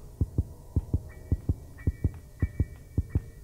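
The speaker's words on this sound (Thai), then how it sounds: "เสียงหัวใจมันเต้นเหมือนหัวใจผมเลยนะตอนนี้" Heartbeat effect from the horror video game Slayer Dark, a steady double-thump pulse repeating about ten times, low and throbbing over a faint hum with soft tonal beeps.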